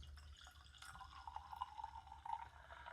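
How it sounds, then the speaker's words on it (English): Hazy, lightly carbonated Temple cider pours into a glass with a soft, steady liquid trickle and faint bubbling, close and quiet. "Let's pour it out."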